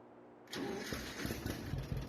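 Tractor engine in the Farming Simulator 22 video game cranks and catches about half a second in, then runs on at a steady, fairly loud idle with a slightly uneven rumble, no talking.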